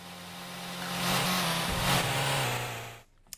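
Ferrari Testarossa engine in the Outrun arcade driving game: a loud, buzzy synthesized engine drone that rises and shifts in pitch as it revs, continuous for about three seconds, then cuts off abruptly.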